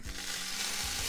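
Shishito peppers and a splash of water sizzling and frying in a heated frying pan, a steady close hiss that continues unbroken without any talk.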